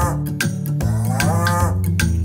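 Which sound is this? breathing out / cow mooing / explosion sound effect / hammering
cow mooing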